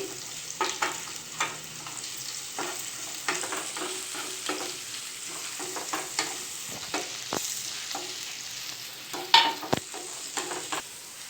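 Onion and chillies fry in a pan, a continuous soft sizzle punctuated by repeated scraping stirs and occasional spoon knocks, close-up and unaccompanied by speech.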